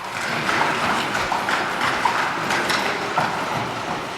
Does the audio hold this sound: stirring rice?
no